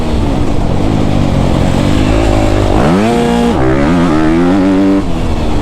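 A 2024 Honda CRF250R dirt bike engine roars loud and close while being ridden, holding a buzzy drone and then revving up through several quick climbing and falling pitch swings, with wind noise underneath.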